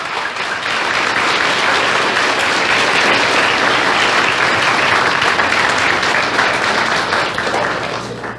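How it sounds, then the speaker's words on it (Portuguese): A church congregation breaks into loud, sustained applause, a dense wash of clapping that swells in and holds steady for several seconds before tapering slightly at the end. "Você pode aplaudir Jesus, mas bem forte mesmo"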